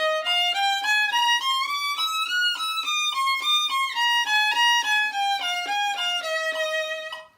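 A solo violin plays a line from Tchaikovsky's 1812 Overture, bowed notes stepping up then back down in a steady, even rhythm, close and clear, with no talking.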